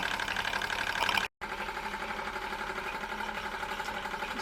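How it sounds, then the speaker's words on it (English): A small Bowman E101 model steam engine runs on a table with a rapid, steady mechanical chugging and rattling as the table vibrates, briefly cutting out before resuming its even clatter. "the engine is actually shaking the entire table and making everything jabber"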